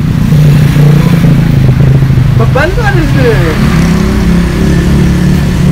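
A Yamaha XS650 cafe racer motorcycle engine drones steadily while being ridden, a loud low rumble throughout with a brief rising whine in the middle, and someone talks over it.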